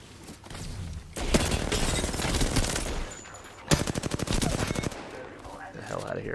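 Gunfire rings out in Apex Legends. Sustained automatic bursts are followed by a rapid, evenly spaced volley of loud shots, with gaps and faint game effects in between.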